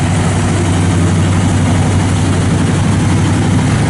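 A 1970 Pontiac GTO engine idles with its choke still on, a loud, steady low rumble close up with no talking.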